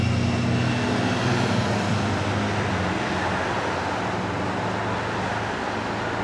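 Small airplane coming in low over Hampton Beach, a broad steady engine roar filling the whole stretch, loud and close overhead without talk.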